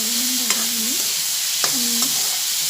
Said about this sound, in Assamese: দাইলখিনি অলপমান ভাজিব লাগে।